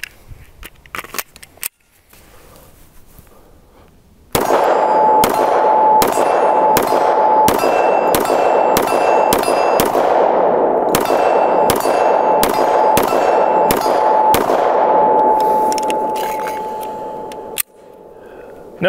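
An FN 510 10mm pistol firing CCI Blazer brass-case 180 grain rounds, a rapid string of about a dozen sharp, loud metallic reports at a steady rhythm, with short gaps and quiet before and after.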